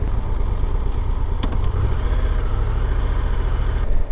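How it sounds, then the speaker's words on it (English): A 2022 Triumph Tiger 1200 GT Pro motorcycle engine idling in neutral, a steady low rumble with a brief sharp tick partway through, close and continuous without talk. "the revs drop right down when you're in neutral"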